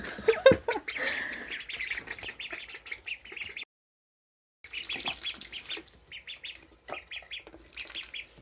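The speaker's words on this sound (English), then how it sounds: "That's because they're runner ducks" Runner ducklings in a brooder on pine pellets give a busy run of high peeping squawks and chirps. The calls come in quick bursts, stop briefly, then start again, close and clear.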